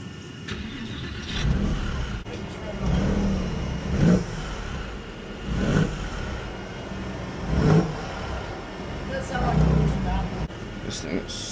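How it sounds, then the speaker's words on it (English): Porsche 996 GT engine fitted with new downpipes, revved several times in a garage, with repeated throaty surges rising over a steady idle while people talk nearby. "Start it up again, and I want you to rev it a couple of times"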